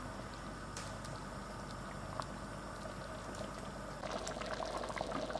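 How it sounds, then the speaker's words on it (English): A pot of spicy vegetable stew boils and thickens with soft, steady bubbling nearby, growing a little livelier toward the end. "I'm going to allow this to boil and thicken."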